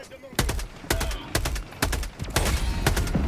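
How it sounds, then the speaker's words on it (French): Rapid machine-gun bursts from the video game Helldivers 2, a dense run of sharp, loud shots repeating at a steady fast rhythm throughout, with faint game noise underneath. "Pour ce genre de truc, la mitrailleuse est vraiment bien."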